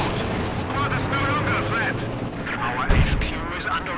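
Dense gunfire and artillery rumble fill a Company of Heroes video game battle, a steady loud barrage with a heavier blast near the end and a voice speaking over it.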